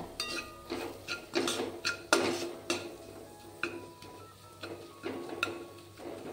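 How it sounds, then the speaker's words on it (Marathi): Sesame seeds roasting in masala in a pan for crispy coriander vadi, heard as a run of sharp metallic scrapes and clinks from stirring, irregular and close, with no talk. "म्हणजे मसाल्यात भाजून घेत आहे तीळसुद्धा"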